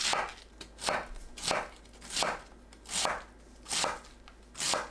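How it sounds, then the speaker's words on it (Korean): A knife chopping fresh cabbage into long strips, about 1 cm wide, on a cutting board: seven evenly spaced, crisp cuts in a steady rhythm, close and clear with no talking. "양배추를 길이 10cm, 너비 1cm 간격으로 썰어줍니다."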